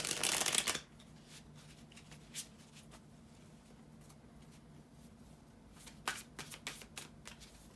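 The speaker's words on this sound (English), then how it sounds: "bear with me just a second, guys, to shuffle the tarot cards." Tarot cards are riffled in a loud close burst at the start, followed by quieter scattered flicks and shuffles of the deck, with no talking.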